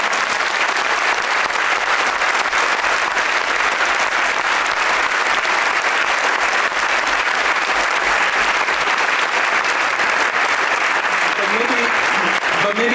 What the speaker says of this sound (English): Usain, I think we want to thank you with the traditional round of applause